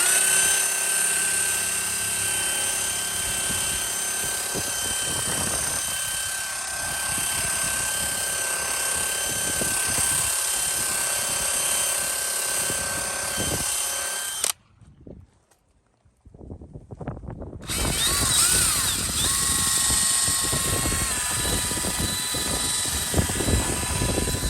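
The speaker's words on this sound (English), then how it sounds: "So you're going to put this into a drill, and then you're just going to go to town with it." Power drill spinning a polishing ball against a scratched window pane during car-wax restoration, a loud steady whirring drone with shifting tone that runs throughout, cutting out briefly midway before resuming.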